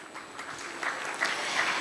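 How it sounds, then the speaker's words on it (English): Scattered audience clapping at a business award ceremony, soft and somewhat distant, forming a steady light patter with a few slightly brighter bursts, and no voices over it. "Let's clap for CO Tech Experts"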